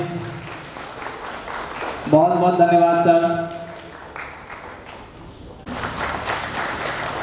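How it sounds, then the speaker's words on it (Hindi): An audience at a memorial ceremony in Bihar applauds during an honouring of a guest, a steady background patter of hands that a man's spoken thanks partly covers before the clapping swells again at the end. "तालियां बजती रहनी चाहिए।"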